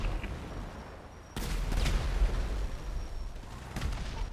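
Gunfire in a GTA roleplay shootout on NoPixel, a sudden crackling burst of shots starting partway through and continuing, with a second burst near the end, fairly distant and muffled.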